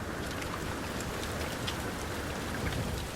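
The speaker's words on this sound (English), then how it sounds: "We've got ambient sounds for the rain" Steady rain ambience in the video game No Man's Sky: a dense, even hiss of falling rain with scattered drop patter, continuous and fairly quiet throughout, with no voices.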